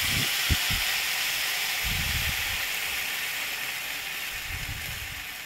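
Hot water is poured into a cooking pot of khichuri, giving a steady hiss and sizzle, with a few soft knocks near the start.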